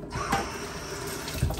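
Chopped ingredients being rinsed under a running kitchen tap while cooking adobo, a steady close splashing wash of water that fills the short stretch without talk.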